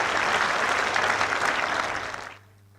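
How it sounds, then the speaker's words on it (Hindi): Enthusiastic audience applause at a formal Hindi-language event welcoming an executive director, a dense steady burst of many hands clapping that fades out near the end. "जोरदार तालियां उनके लिए।"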